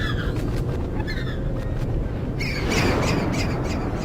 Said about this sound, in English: a single gull, as if it had come to save us